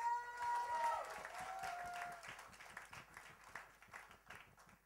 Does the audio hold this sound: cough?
no